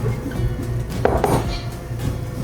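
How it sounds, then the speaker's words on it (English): Soup with half and half being stirred in a pot, a few soft scraping and clinking touches of the utensil against the pot, close and brief. "I stir."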